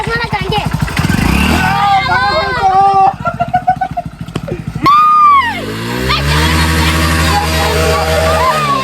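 A learner's motorcycle engine revs loudly and close, rising and falling in pitch through repeated throttle blips, with people shouting and talking over it.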